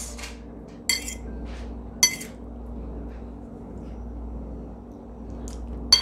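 A spoon clinks against a dish of homemade pudding served with ice cream, a few sharp separate taps spread over a quiet room with a low steady hum.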